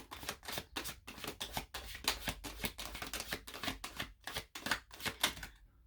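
Tarot cards being shuffled by hand in rapid repeated riffles, a dense run of crisp papery flutters and taps close to the microphone with no talking.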